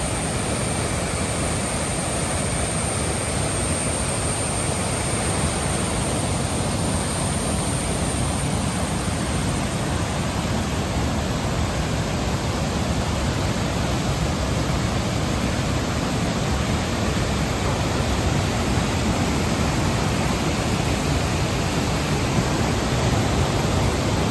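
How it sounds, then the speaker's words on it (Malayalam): A waterfall roars in a steady, dense rush of falling water, loud and unbroken throughout, with no voices. "ശരിയായ വെള്ളച്ചാട്ടം കേട്ടോ"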